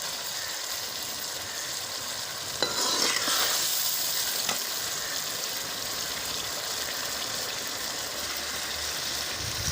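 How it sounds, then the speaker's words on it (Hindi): Chilies for a fish curry fry in a pan with a splash of water added to keep them from burning, giving a loud, steady sizzle that swells briefly as the water hits, with stirring and no voices. "अब ये मैं थोड़ा सा पानी डाल रही हूँ ताकि मिर्चें जले ना और अच्छी तरह मैं इसको भून लूँ।"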